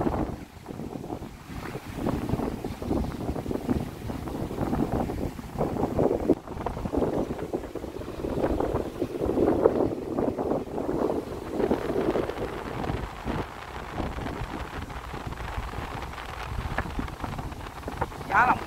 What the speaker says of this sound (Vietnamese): Gió lồng lộng, cả nhà nghe không?